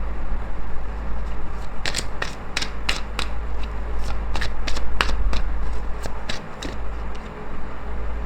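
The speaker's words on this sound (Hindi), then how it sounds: "See, I am shuffling." A deck of tarot cards is shuffled close by: a run of quick, crisp riffling snaps and flutters in irregular bursts over a low steady hum.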